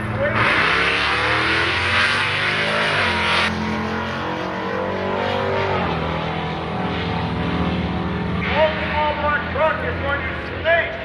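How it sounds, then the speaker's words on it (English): A small-block square-body truck roars down a drag strip, its engine revving hard and climbing through gears, loud and close, with an announcer talking over it. "Here comes the long, small block square body."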